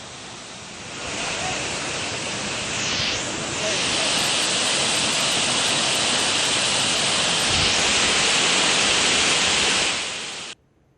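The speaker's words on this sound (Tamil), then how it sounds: "வத்தல் மலையில் பெய்து வரும் மழை காரணமாக அதன் அடிவார பகுதிகளில் திடீர் அருவிகள் உருவாகியுள்ளன" Rain-fed waterfalls pour between rocks at the foot of Vathal Hills after heavy rain, a dense, continuous roar of rushing water that swells slightly and holds steady before cutting off abruptly near the end.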